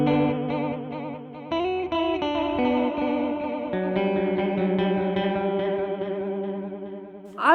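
Guitar played through an MXR Joshua ambient echo pedal set to maximum, sustained chords and picked notes smeared into a wobbling, shimmering wash of modulated repeats, loud and continuous, with a brief swell at the end.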